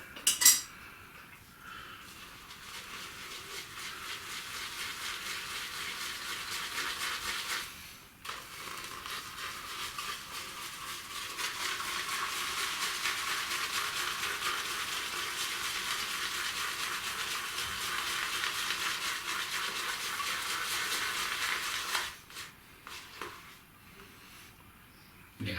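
Shaving soap being lathered in a bowl with water: a brush swirls continuously with a wet, hissing, scratchy churn, broken by two short pauses and a few clinks against the bowl.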